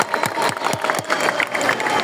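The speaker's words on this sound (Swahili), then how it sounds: "Hebu mpigieni makofi mengi sana mheshimiwa mbunge." An audience applauds a member of parliament at a public gathering, with dense, steady clapping from a nearby crowd and faint voices mixed in throughout.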